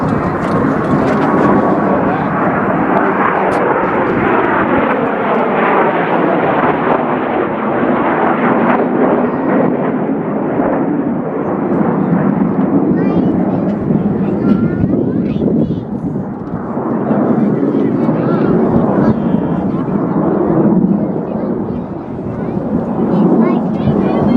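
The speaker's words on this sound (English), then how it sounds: "They're just going to fly over the top of us." A first-generation British Canberra jet bomber makes a low pass overhead at a 2004 RAAF museum display, its loud, sustained jet roar swelling and fading as it passes, with people talking under the noise.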